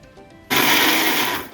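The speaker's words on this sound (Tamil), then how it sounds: "மிக்சியில் 2 பல்ஸ் ஓட விட்டால் போதும் பார்த்துடுங்க" A mixer grinder whirs through a short pulse on coconut chutney with salt. The motor starts abruptly and runs loud and steady for about a second, then begins to slow.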